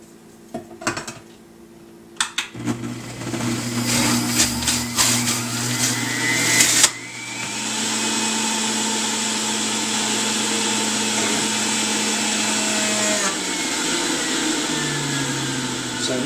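A juicer whirs and grinds through fruit at close range, starting with clattering and knocking as produce is loaded, then settling into a loud, steady motor drone that runs for several seconds before shifting pitch near the end.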